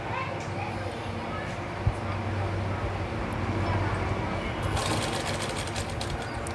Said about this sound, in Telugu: అబ్జర్వ్ చేయండి ఎలా కుడుతున్నాను అనేది